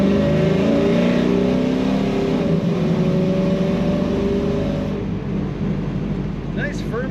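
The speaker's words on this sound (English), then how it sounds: "Nice strong running car, great exhaust notes" A 1970 Chevrolet Nova restomod with automatic transmission revs its engine, the exhaust rising in pitch and then settling back to a loud, deep idle. The car is close by and the engine sound fills the clip.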